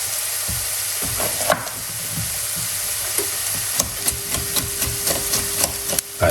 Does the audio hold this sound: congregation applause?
no